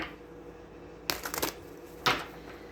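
Tarot cards being shuffled by hand, with a quick riffle followed by a brief second flutter, close up over a quiet room hum.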